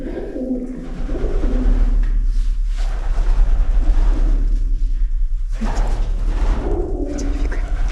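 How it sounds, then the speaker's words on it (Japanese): Pigeons coo repeatedly in an echoing enclosed space in Cappadocia, Turkey, their low rolling calls loud and reverberant, coming in overlapping bursts with brief quieter gaps. "響くやん、鳩の音"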